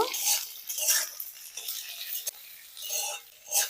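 Soft scraping and stirring of potatoes, poppy seeds and peas in oil in a pan, with dry rustling strokes coming in uneven bursts, close by and fairly quiet, no voices.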